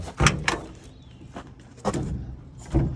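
A Brockway 361 truck cab door being swung and latched, several heavy metallic thumps and clunks close by, with quieter handling rattles in between and no talking.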